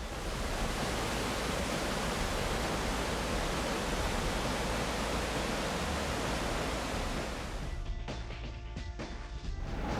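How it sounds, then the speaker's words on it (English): A mountain stream in the French Alps rushes under a road bridge as a dense, loud, steady roar of flowing water that fills the whole stretch without pause. "This stream flows under the bridge where the road was blocked off"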